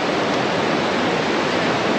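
Hot spring water gushes out steadily at Manikaran, a loud, close, continuous rushing like a small waterfall with no break or voices.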